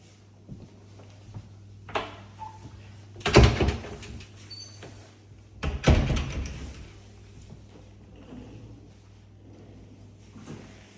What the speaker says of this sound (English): The drawers are soft close.